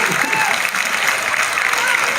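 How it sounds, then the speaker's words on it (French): A standing audience applauds at an evening gathering, a loud continuous patter of many hands with a voice or crowd murmur mixed faintly underneath. "que ce soit un grand applaudissement à tous ceux qui sont dans l'ombre et qui ont fait cette belle soirée"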